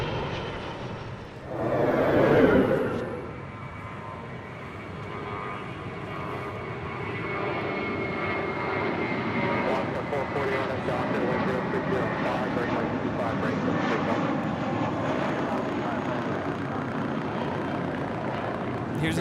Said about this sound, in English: Here's another flight out to Atlanta. This is Spirit 631. It's an A320